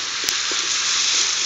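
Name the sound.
chicken sizzling in boiling water in pan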